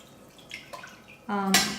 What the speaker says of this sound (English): now I'm straining all the stuff out of it